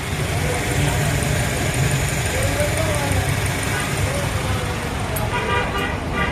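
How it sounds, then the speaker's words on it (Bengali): A Toyota Prado 4x4 engine idles after a gearbox repair, a low, steady running hum under voices and road traffic, with a brief horn toot near the end. "গাড়ি এখন আছে স্টার্ট, দেখতে পারতেছেন স্টার্ট আছে"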